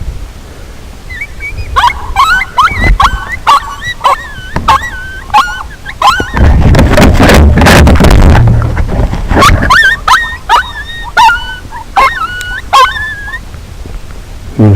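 Excited coyote yips and high wavering howls repeat throughout, rising into a loud, dense chorus of overlapping calls midway before thinning back to scattered yelps, during a coyote hunt.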